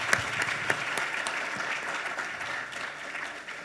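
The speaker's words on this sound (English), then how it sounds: "we should give them a big round of applause again" A conference audience gives panelists a round of applause, sustained moderate clapping with a few sharper close claps, fading slightly at the end.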